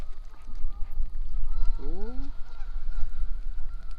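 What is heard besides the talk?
geese honking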